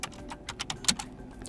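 Keys tapped on a computer keyboard while entering an nmap scan command in a Linux terminal on Ubuntu, a quick uneven run of light clicks close by, with no talking.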